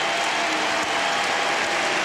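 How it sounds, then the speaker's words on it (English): A packed college basketball crowd at Allen Fieldhouse roars and applauds in a dense, continuous wash of cheering as Kansas plays Iowa State late in the game, loud and sustained. "the crowd in Allen now beginning to celebrate with 2:48 left in the game"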